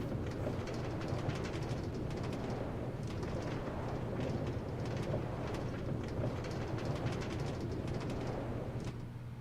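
A minecart in Minecraft rolls along rails into a train station, making a steady, continuous rumbling clatter that stays even throughout, with no voices over it.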